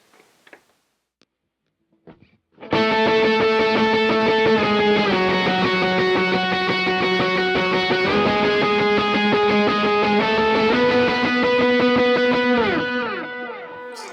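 Electric guitar run through a POG octave pedal, thickening a melodic octave part into a dense, buzzy sustained line with note changes, starting after a few faint picked notes and fading at the end, loud and alone.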